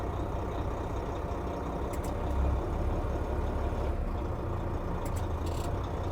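A work truck in crawler gears with its PTO engaged creeps forward on its own at barely moving speed, its low engine rumbling steadily and close, with a brief faint hiss or clink now and then.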